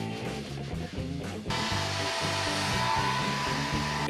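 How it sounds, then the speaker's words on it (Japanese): A hair dryer blows close up while drying a man's freshly dyed hair, holding a steady whoosh at first, then switching to a louder, harsher airflow about midway through. "髪を乾かし終わりました。"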